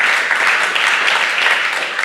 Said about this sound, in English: I think y'all should give a round of applause for that,